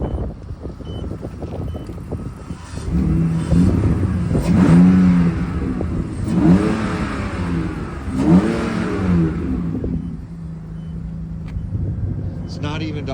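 A 2001 BMW 330i M Sport E46 with a possible coolant leak, not yet warm, runs with a rough, uneven idle, its low engine rumble steady and close while someone talks over it.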